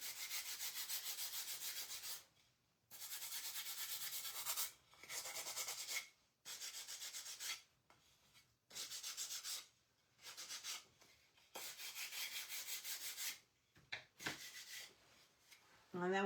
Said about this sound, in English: We'll take our sander.